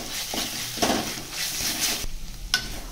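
Ginger stirred into onions frying golden brown in hot oil, a steady close sizzle broken by a few spoon scrapes against the pan, with no talking.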